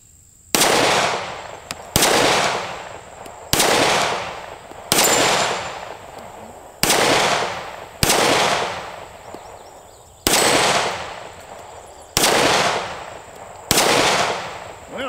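A Keltec P15 pistol is fired at an outdoor shooting range, with ten loud, sharp gunshots spaced about one and a half seconds apart and each trailing into a long, ringing echo.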